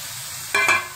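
Mutton dropped into a pan of fried masala: a quiet background hiss, then two quick loud bursts of sizzle and stirring that fade slowly.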